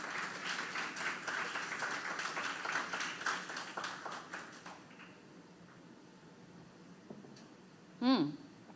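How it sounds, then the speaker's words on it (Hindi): A crowd at a Bhojpuri entertainment event applauds in a dense burst of clapping that fades after about five seconds, followed by quieter room sound and a short sharp noise near the end. "आपकी जोरदार तालियां बजती रहनी चाहिए।"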